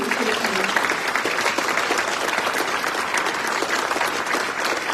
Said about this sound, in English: So if we could just give a round of applause for the team.